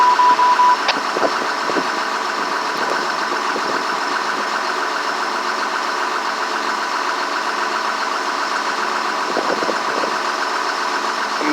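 Diesel engine of snow removal equipment running steadily at idle during refueling, a constant even drone heard alone with faint clanks.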